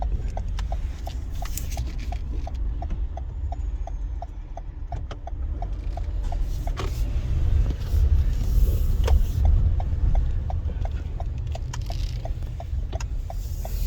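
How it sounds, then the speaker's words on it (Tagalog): Busy city street traffic in Toronto in warm sunny weather, a continuous low rumble of passing cars that swells mid-way, with a steady rhythmic ticking, like a crossing signal, repeating throughout. "Grabe guys, sobrang traffic ngayon kasi magandang panahon."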